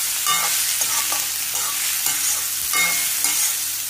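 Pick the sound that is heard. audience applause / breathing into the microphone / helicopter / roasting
roasting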